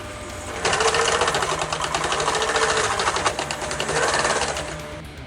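A sewing machine stitches rows of bar tacks onto a backpack strap loop, running steadily and close by for most of the clip with a rapid, even mechanical chatter after a short quiet start.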